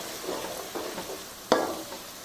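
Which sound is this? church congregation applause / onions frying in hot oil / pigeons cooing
onions frying in hot oil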